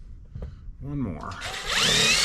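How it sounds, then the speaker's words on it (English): A power drill whirs up, its pitch rising as it bites in and drives a screw into a barn floor, with a brief murmur of speech before it starts. "Drilling in pretty easy there"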